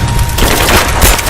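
Loud, close automatic gunfire crackles in continuous rapid bursts during a firefight in Rise of the Tomb Raider, filling the whole moment with no pauses.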